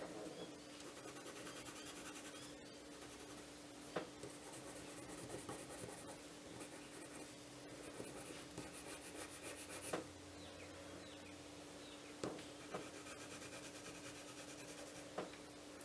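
Derwent watercolour pencil scratching across paper, a steady soft dry rasp of strokes with occasional sharper taps, close and fairly quiet with no talking.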